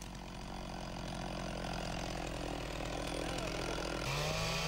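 A chainsaw cuts timber while a tree is felled in winter in the mountainous Albarracín district, a steady close whine running throughout, its pitch dropping sharply near the end as the chain bites into the wood.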